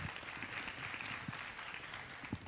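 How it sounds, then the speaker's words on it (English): Audience applause at a hair color stage show premiere in Orlando: a steady, dense wash of clapping that stays even and sustained throughout, with no voices standing out. "So I want you to give yourselves a huge round of applause."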